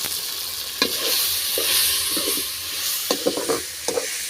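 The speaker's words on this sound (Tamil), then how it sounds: "வெங்காயம் தக்காளி இஞ்சி பூண்டு பேஸ்ட் எல்லாம் வந்து போட்டாச்சு எல்லாம் வதங்கிட்டு இருக்கு" Onions, tomatoes and ginger-garlic paste sizzling steadily in a pan, with scattered scraping stirs and clinks of a utensil against the pot.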